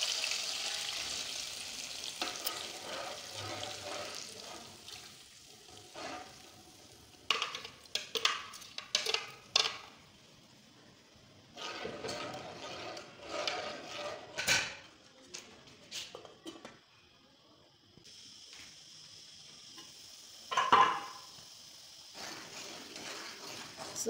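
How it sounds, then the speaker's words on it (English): Onions and pepper frying in hot oil in a pot, a steady crackling sizzle with occasional stirring and clinks of utensils throughout. "I will be adding my onions and I will allow it to fry well."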